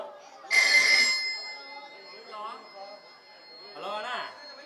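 A telephone rings once in a loud short burst during a comedy stage drama, then people talk over quieter background sounds.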